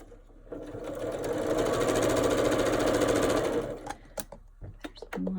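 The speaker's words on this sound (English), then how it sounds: "So now I'm going to sew this side on." Sewing machine stitching the side panel of a fabric enclosure, a loud continuous mechanical whir for nearly four seconds that then stops, leaving a few short clicks and handling noises.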